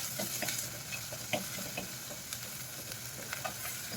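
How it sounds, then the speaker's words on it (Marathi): Masala sautéing in a clay pot on a low flame, a soft steady sizzle with faint scraping stirs of a spoon, quiet and continuous with no talking. "त्यामुळे अगदी मंद आचेवरच हा मसाला परतून घ्यायचा आहे"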